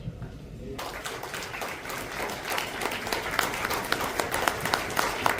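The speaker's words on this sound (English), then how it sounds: "Please give us a round of applause for everyone" Sustained applause from a crowd at a community awards event in Panaji, Goa, many hands clapping steadily and building slightly, with scattered louder claps throughout.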